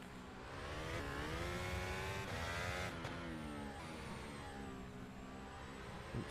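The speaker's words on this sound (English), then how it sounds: "Just realized the car is very, very loud when we're on board." An onboard Formula 1 race car engine in the rFactor 2 racing game drones loudly and steadily, its pitch rising and falling through gear changes and downshifts, with no talking.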